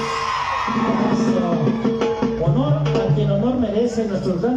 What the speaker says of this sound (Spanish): A ver que se escuche fuerte el grito